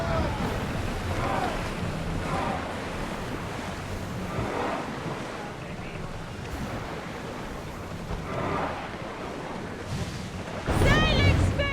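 A sailing ship crosses open ocean in Assassin's Creed Odyssey. Waves wash and surge with gusting wind noise in an uneven rhythm, and a louder splashing burst comes near the end.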